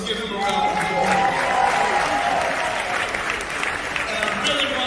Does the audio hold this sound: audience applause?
yes